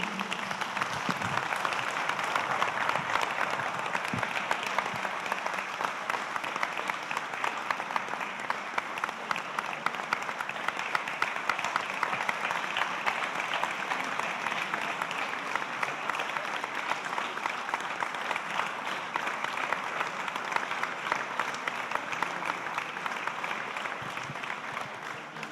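A standing audience applauds Giuliano Berretti at the FED Lucca 2025 event, with dense, steady clapping that stays loud and even for the whole stretch, without pauses or cheering peaks.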